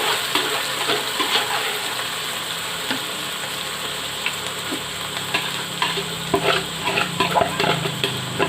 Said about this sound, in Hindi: ऑयल गर्म होने के बाद अब इसके अंदर मैरिनेट किया हुआ आधे घंटे से जो मैंने चिकन रखा था सारा डाल देते हैं।